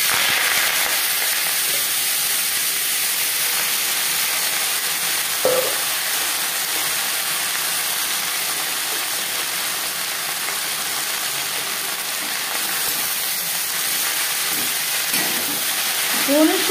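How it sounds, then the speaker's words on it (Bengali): Drumstick leaves fry in oil with cumin seeds and chilli, giving a steady, even sizzling hiss for the whole stretch with a couple of faint stirring knocks. "লঙ্কার সাথে 20-25 সেকেন্ড জিরে ভেজে নেওয়ার পর দিয়ে দেবো সজনে পাতা"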